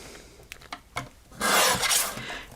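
Paper being trimmed for a handmade card, a few soft scraping cuts followed by a louder, steady rasping stroke close by, with no talking.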